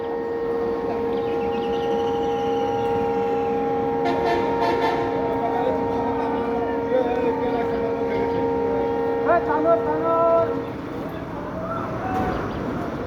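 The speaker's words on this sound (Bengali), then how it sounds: "আপনারা শুনতে পাচ্ছেন, সামনে যে ট্রেন আসবে হয়তো বা," A train approaches a rail crossing, giving a long sustained horn-like wail with steady tonal layers over traffic rumble, fairly loud, before it fades near the end.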